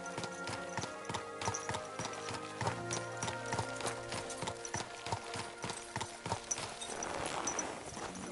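Steady clip-clop of horse hooves in the video game Kingdom Come: Deliverance 2, a brisk rhythmic trot close by, with some clattering over a continuous background.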